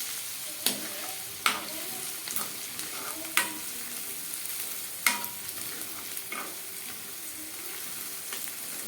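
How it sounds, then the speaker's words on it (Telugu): Curry leaves and drumstick leaves frying in a pan, a low sizzle broken by several distinct spatula scrapes and taps at irregular intervals, fairly close and quiet. "మంచిగా ఫ్రై చేసుకోవాలి"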